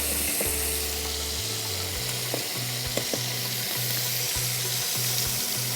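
Chicken pieces sizzle and fry steadily in a pan with spices, a close, continuous crackle with occasional stirring clatter and faint clinks.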